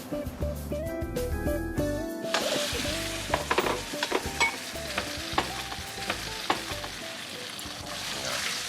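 Raw chicken pieces, breast and thigh, dropped one by one into hot oil sizzle and crackle steadily, with sharp popping spikes and utensil clinks, after a few clattering sounds at the start.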